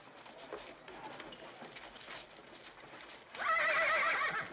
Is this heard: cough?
no